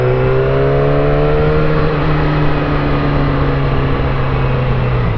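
Cars drive past on a road, giving a loud, close, continuous engine drone with a steady pitched hum that slowly falls away, heard alone with no talk.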